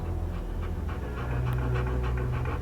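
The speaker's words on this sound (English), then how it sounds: "I found the poor pup whimpering alone in a house" Steady rhythmic panting from a dog in the video game Hell Is Us, close and continuous over a low ambient game soundscape.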